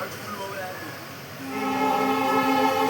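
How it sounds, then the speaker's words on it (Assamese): A train travelling from Assam to Jammu rumbles along at low speed, with a sustained tonal hum rising partway through, steady and fairly close. "ফাইনেলি উঠি ল'লোঁ ট্ৰেইনত এতিয়া লাহে লাহে গৈ আছোঁ চাব পাৰে পূৰা লাহে লাহে গৈছে ট্ৰেইন"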